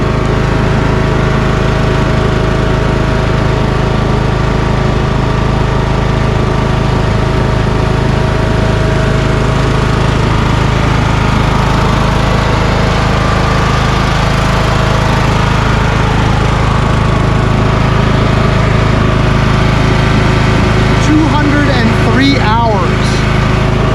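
Craftsman YS4500 lawn tractor, repowered with a Kohler Courage 19HP engine, runs steadily at full throttle, a loud continuous droning engine note held throughout with no pauses.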